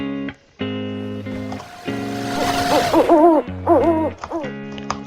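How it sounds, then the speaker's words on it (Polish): Several drawn-out owl-like hoots come loud and close, wavering in pitch, following a louder steady tone at the start, with no talk over them. "sowa?"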